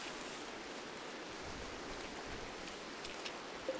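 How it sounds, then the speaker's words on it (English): Steady rain falling in the video game RimWorld, a soft, even hiss of drops that holds without pause and carries no voices. "It's just raining."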